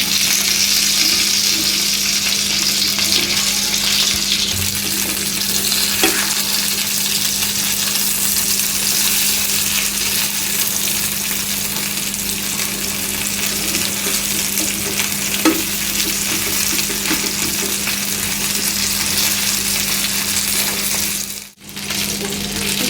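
Fish pieces frying in oil in a pan for a Bengali fish fry, a continuous close crackling sizzle that holds steady for a long stretch, broken by a few faint clinks.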